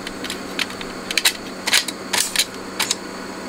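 Scattered plastic clicks and clacks, close and fairly quiet, as a cassette is handled and pushed into an AIWA AD-F990 three-head tape deck, over a steady low hum.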